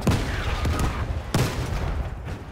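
Battlefield V air raid and gunfire: heavy booming blasts and bursts of shots rumble in a noisy battlefield mix, with two strong impacts standing out among the ongoing din.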